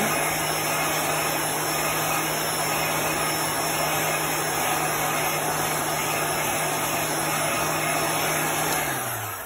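A handheld dryer blows steadily on a chalk paste craft project, a loud continuous whooshing hum with a low motor drone that holds for about nine seconds, then begins to wind down at the end.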